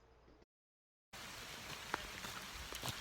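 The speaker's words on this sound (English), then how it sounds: "It's raining." Rain falls on the C&O Canal towpath in Maryland, a steady hiss of drops after a brief silence, with a few sharper nearby patters on a hat or pack.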